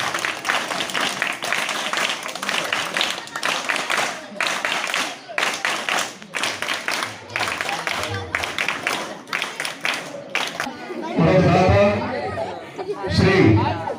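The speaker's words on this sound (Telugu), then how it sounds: "చప్పట్లు గట్టిగా మోగాలి." A speaker addresses the crowd over a PA at a high school event, and a dense burst of audience clapping swells up in the final few seconds.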